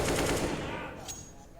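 Rapid automatic gunfire wall-banging on the Mirage map in the video game Counter-Strike, a dense continuous burst that fades toward the end, with faint talk underneath.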